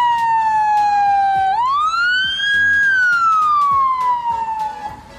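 A toy ambulance plays its electronic siren, a loud steady wail that sweeps up in pitch and slowly falls back, sounding alone and close for the whole stretch.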